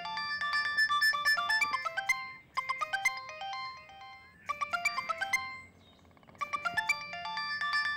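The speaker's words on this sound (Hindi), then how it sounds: "किसका फोन आ गया इस वक्त?" A melodic phone ringtone plays in two bursts of rapid tonal notes with a short gap between them, clear and fairly loud in a quiet indoor room with no talking over it.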